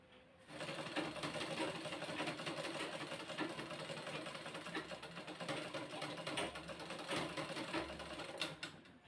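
A sewing machine stitches a blouse in one continuous run. The whirring motor and rapid needle clatter are close and steady, with a few brief pauses and a click at the end.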